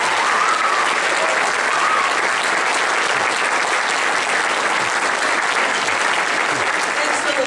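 An audience at a high school jazz band spring concert claps in loud, dense, continuous applause throughout, with crowd noise and voices mixed into the clapping.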